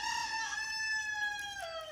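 A rooster at a farm sanctuary crows once in a long, clear cock-a-doodle-doo close by, with the call dropping in pitch at the end and no talking.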